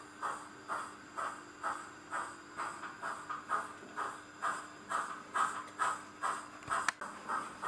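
A Class 9F 92212 model steam locomotive with DCC sound runs on tight radius 2 and radius 3 set track, giving a steady rhythmic chuffing with hiss, about a dozen even beats, fairly close and alone.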